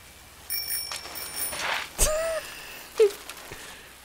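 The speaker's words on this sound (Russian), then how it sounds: "Не забудь в колокольчик позвонить" A bicycle bell rings in the video game Generation Zero, several bright metallic dings in quick succession amid faint game background sounds.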